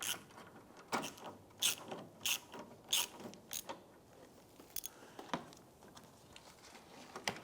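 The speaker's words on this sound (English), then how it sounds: "we're going to use our 10mm socket, swivel and extensions, and loosen the nut from this side here" A ratchet wrench with a 10mm socket, swivel and extensions loosens a nut behind the front bumper cover of a 2005-2007 Ford Five Hundred, giving short, separate clicking bursts at an irregular pace, close and fairly quiet.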